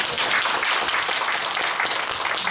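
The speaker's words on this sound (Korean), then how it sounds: "큰 박수를 하고 마치도록 하겠습니다" An audience at a lecture applauds continuously, a dense wash of clapping hands at moderate volume with no pauses.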